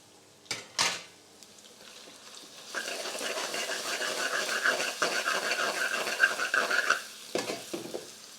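Two medium sliced onions frying for a spicy mutton korma, a few sharp clatters of utensils first, then a continuous close sizzle with stirring scrapes for several seconds before more knocks at the end.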